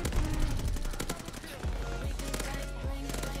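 M1928 Tommy gun firing in a Call of Duty match, loud rapid automatic bursts crackling over dense game sound and background music.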